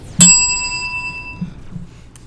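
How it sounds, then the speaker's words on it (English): A bell in Halo 3 on the Crow's Nest map strikes once, loud and bright, then rings out in a long pure fading tone over faint low game ambience. "Oh, bell again."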